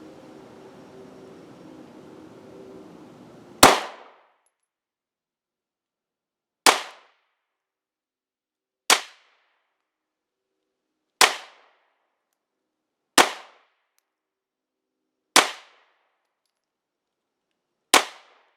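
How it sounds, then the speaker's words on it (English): Seven sharp, loud pistol shots from a Polymer 80 Glock 19 fired at a target, spaced roughly two seconds apart, each a crisp crack with a quick decay and silence between. "I'm going to go ahead and shoot the target on the right of that second row"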